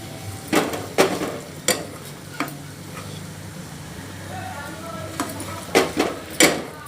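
Grated coconut roasts and fries in a pan for a Varhadi chili curry, a soft continuous sizzle broken by sharp scrapes and clinks of a spoon stirring against the pan, close and loud.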